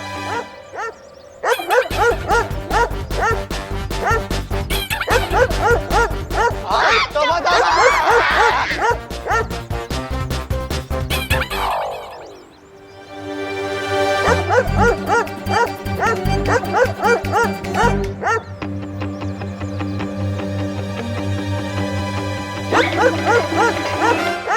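Loud, rapid yapping barks meant as a small dog's come from human voices imitating it, repeating over busy background music with a brief whimpering slide midway.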